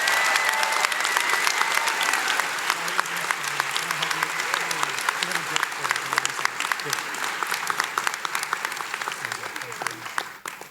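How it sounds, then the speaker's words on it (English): Sustained audience applause at a spring 2025 Interdisciplinary Studies graduation ceremony, dense steady clapping from a large crowd for about ten seconds, with a voice faintly audible beneath it. "Another round of applause for Teresa, please."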